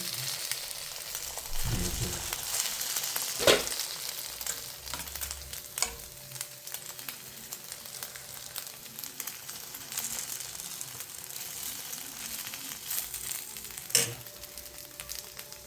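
Bread dipped in egg fries in ghee, a continuous close sizzle with occasional crackles and a few sharper knocks or spatula touches spread across the stretch.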